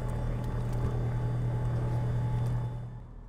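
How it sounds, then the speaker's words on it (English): Twin engines of a Diamond DA42 aircraft idle just after startup, a steady, close droning hum with a low tonal throb that holds level, then eases slightly in the final moment. "we've successfully started the engines"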